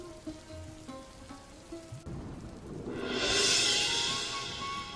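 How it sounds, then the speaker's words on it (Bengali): Rain in an animated cartoon scene starts as a soft patter after a gentle musical intro, then swells into a steady, full downpour that rises and holds to the end, with no voices. "কালকে থেকেই তো টানা বৃষ্টি হচ্ছে"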